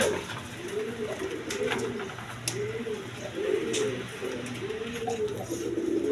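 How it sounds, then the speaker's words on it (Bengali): A pair of coloured Gorra pigeons coo repeatedly in a soft, rolling rhythm, close by, with a low steady hum and faint background noise. "এইখানে এক পেয়ার গররা কবুতর আছে কালারিং গররা কবুতর দেখেন"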